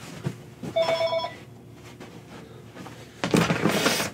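A landline telephone rings indoors with a short electronic trill, a brief burst followed by a pause and another, moderately close over a quiet room.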